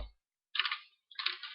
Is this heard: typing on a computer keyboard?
yes